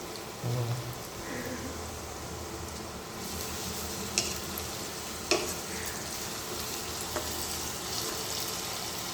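Cardamom spluttering in hot oil in a pan for a Bengali home-style mutton curry with potato, a steady fizzing sizzle with a few sharp pops and crackles rising above it, moderately close.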